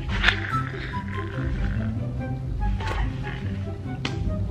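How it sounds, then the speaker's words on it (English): A tiger's roar played as a round of an animal impression guessing game, a loud rumbling call with low growling tones and a few sharp bursts, heard with background noise and no speech. "Tiger."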